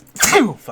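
A single loud, close sneeze bursts out sharply and trails off, followed by a voice speaking an exclamation right after it, in a casual tabletop game session.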